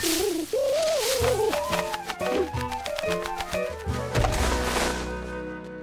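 A cartoon pigeon coos with a wavering, warbling call over bright orchestral music, followed by a few sharp comic hits and a sustained musical chord at the end.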